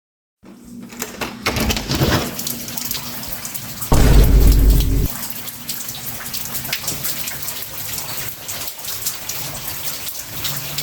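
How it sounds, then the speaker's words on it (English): Steady rain falls outdoors in a dense, hissing patter, with a louder low rumble of thunder in the middle and the downpour continuing evenly afterward, close and fairly loud. "it's raining right now"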